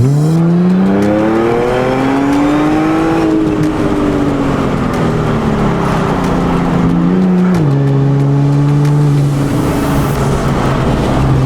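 An Audi S4 with all-wheel drive accelerating hard to warm its tires, its engine note loud and close, climbing in pitch through gear changes with a brief drop in revs between them.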